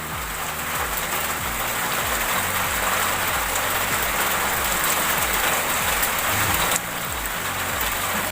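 Constant rainfall pattering and hissing nearby, with a low rumble of a passing vehicle or engine beneath it; no one speaks. Roadside near Kuchera market, India.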